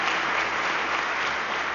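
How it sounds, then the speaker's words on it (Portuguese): A church congregation claps in a dense, even burst of applause that fills the whole short moment at a steady level. "Quantos podem dar uma salva de palmas em nome de Jesus?"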